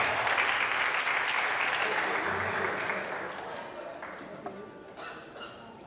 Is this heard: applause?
yes